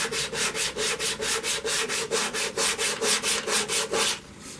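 Green poplar bowl being sanded on a woodturning lathe, a steady rhythmic rubbing rasp pulsing about four times a second, loud and close, then easing off near the end.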